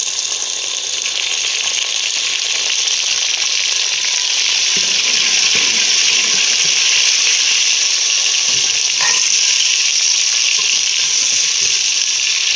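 Tomatoes and green chilies frying in a pan for a roasted tinda curry give a steady, loud sizzle that lasts throughout, with occasional stirring clicks and no talking.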